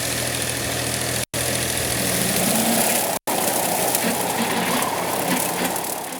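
A farm tractor engine running steadily, a dense continuous drone with low throb, broken by two very short gaps, heard alone without talk.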